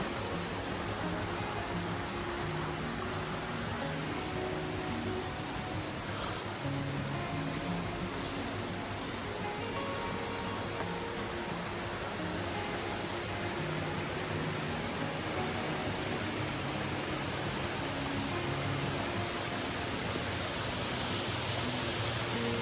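Water flowing steadily over the falls at McCormick's Creek along a hiking trail, a continuous broad rushing wash at low level, unbroken and without voices.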